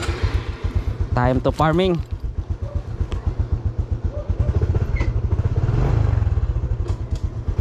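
Honda XRM 125Fi motorcycle riding an off-road farm trail in Davao de Oro, with a steady close-up engine putter throbbing throughout, rising briefly, and someone speaking over it near the start.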